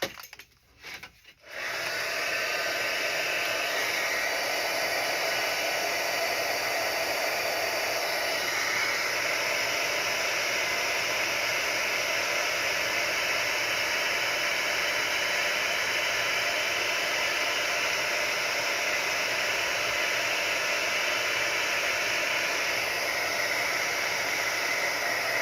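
A heat gun blows a steady, loud, hissing rush of air without pause while embossing powder is set on a journal page, after a brief clatter at the start.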